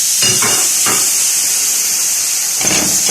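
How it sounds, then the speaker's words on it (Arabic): Onion and a piece of fat hit a very hot pot and fry with a loud, steady sizzling hiss, with a few soft knocks and stirring sounds near the start and end. "حطيت الحله سخنت جدا، هحط البصل وحته الدهن"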